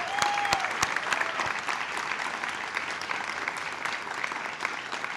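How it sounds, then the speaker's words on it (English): An outdoor crowd at a Pride illumination event gives the chorus a round of applause, a steady wash of many hands clapping at moderate distance that holds evenly throughout. "Can we give the chorus another round of applause?"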